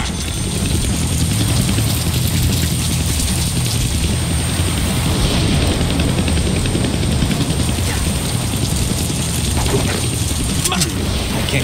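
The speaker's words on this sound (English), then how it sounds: "I can't kill that chopper with my guns" A helicopter in the Deadpool video game makes a loud, continuous rotor and engine roar that stays steady throughout, with game noise layered over it.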